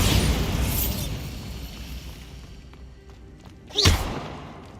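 A Bombarda spell in Hogwarts Legacy goes off as a deep, thudding explosion, a loud burst that fades over a couple of seconds before a second sharp blast near the end.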